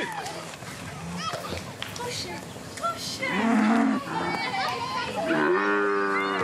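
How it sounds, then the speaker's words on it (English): Brahman cattle on a Namibian farm moo repeatedly, with several loud, drawn-out calls close by, over a busy herd background and some rustling movement. "Huber owns around 200 cattle, mainly bullocks, for meat production."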